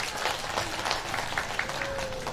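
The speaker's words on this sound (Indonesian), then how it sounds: "tepuk tangan dulu untuk kita semuanya" Children clap together at a kindergarten outing to a kids' fun venue, a lively steady patter of small hands with faint voices mixed in beneath it.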